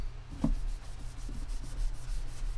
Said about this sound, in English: basically takes off a layer of varnish